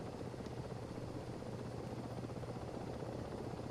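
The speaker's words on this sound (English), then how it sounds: "This must be a very noisy neighbourhood to live in, with helicopters flying overhead like this at low altitude" Mi-8 helicopter in a video game passing low overhead, a loud steady rotor thump and engine drone filling the whole moment without any speech.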